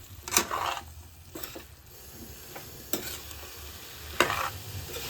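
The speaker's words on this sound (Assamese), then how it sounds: "আৰু এতিয়া এই ফ্ৰাই কৰি থোৱা এই গোটেইখিনি ইয়াত দি দিম। দেখিছে এয়া অকণমান সময় এনেকৈ লৰাই দিম।" Fried jackfruit pieces and spices being stirred in a pan over low flame, soft sizzling with several distinct scraping strokes of a spoon against the metal, close and fairly quiet, no talking.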